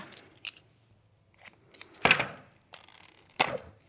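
Scissors snipping off the end of a twisted balloon while making a balloon bauble, a few short crisp cuts spaced apart in a quiet room, close by.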